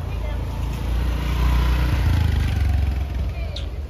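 A new Honda Dio 125 scooter engine hums low and steady, swelling slightly midway, with a voice speaking over it.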